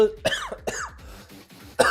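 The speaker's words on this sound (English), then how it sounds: "sorry for the cough" A man coughs several times in quick, harsh bursts, close to the microphone, with a final sharp cough at the end.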